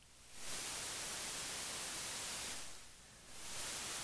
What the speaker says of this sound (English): RawTimbers is giving me background noise, possibly because of the output of some plugin that's dithering to the floating point bus.